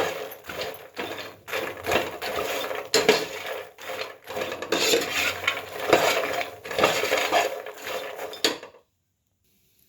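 Fox nuts (makhana) being dry-roasted and stirred in a pan over a low flame, with steady scraping, rattling and clinking of the seeds against the metal pan, fairly close, stopping abruptly near the end.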